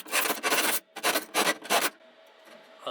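A big bastard file rasps across metal to deburr it, five quick scraping strokes in a steady rhythm, close and clear, followed by a quiet pause.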